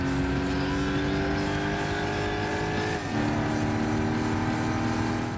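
A racing car in Gran Turismo 6 drives a narrow track in a Clubman Cup 400 PP career race. Its engine drones loud and continuous, and the pitch dips briefly partway through as it slows for a corner.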